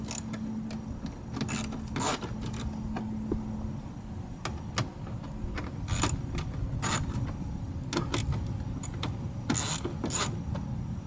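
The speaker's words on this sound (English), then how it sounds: "Get the 10mm socket and release the screws." A ratchet fitted with a 10mm socket loosens car door screws, giving repeated close clicking strokes and sharp snaps in uneven bursts over low handling noise, without speech.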